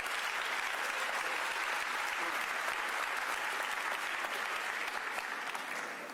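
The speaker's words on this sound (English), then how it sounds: "Let's give them another round of applause." A crowd at a Los Angeles civic event applauds Paralympians and the para-fencing team, a continuous wash of clapping that holds steady for several seconds before easing slightly at the end.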